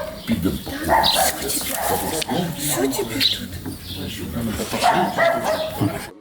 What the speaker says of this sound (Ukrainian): Це пес на прізвисько Рембо